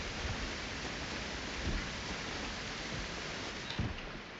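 Steady rainfall in the Project Zomboid game world at Rosewood, a dense continuous hiss of rain on surfaces with faint low thumps, fairly even throughout.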